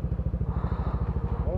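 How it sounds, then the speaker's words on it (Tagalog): A motorcycle engine putters nearby on a mountain highway, a steady rapid rhythmic thumping at low revs with a slight rise toward the end. "May motor."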